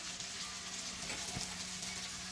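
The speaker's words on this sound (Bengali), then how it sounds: "ভালো করে ভেজে নিয়েছি লাল লাল করে" Chicken frying in oil in a pan, browned deep red, a soft steady sizzle with faint crackles, quiet and continuous, with no talk.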